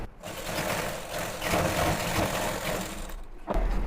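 A sewing machine runs steadily while stitching pant fabric with extra reinforcing seams in a tailoring lesson, a close continuous mechanical whir with a brief pause near the end before it resumes.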